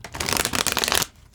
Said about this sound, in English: So let's shuffle first